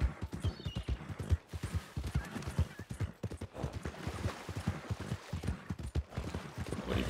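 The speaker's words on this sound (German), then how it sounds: "da können wir ja noch ein bisschen durch die Gegend reiten hier" Horse hooves clip-clop in a brisk, steady rhythm while riding in the Red Dead Redemption 2 online game, close and fairly soft, with faint background ambience.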